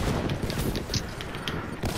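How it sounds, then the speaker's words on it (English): Rapid gunfire from several weapons in Call of Duty Black Ops 3, a dense, steady stream of overlapping shots and bursts at close range, loud and continuous throughout. "there's too many people shooting at me"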